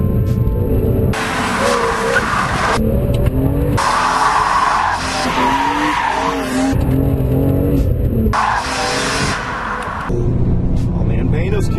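A BMW E46 M3 inline-six accelerates hard on a public road, its engine note rising and falling loudly through several gear changes across the clip, with someone talking over it throughout.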